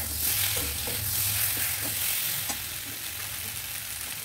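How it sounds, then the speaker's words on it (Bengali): Spices and a fish curry base for a bata fish recipe being sautéed in a pan, giving a steady close sizzle and frying hiss with occasional stirring scrapes throughout. "তা সব কিছু দিয়ে আমি একসাথে ভালো করে কষিয়ে নিচ্ছি।"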